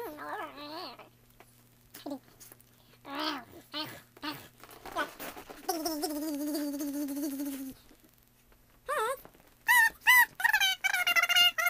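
A dog gives a string of high, wavering whimpers and whines in short bursts, with a longer sustained whine in the middle, heard up close in a quiet room.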